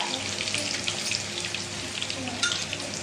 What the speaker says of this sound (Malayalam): ഇതിൻ്റെ കൂടെ നമുക്ക് കുറച്ച് കരിവേപ്പിലയും കൂടെ ഇട്ട് കൊടുക്കാം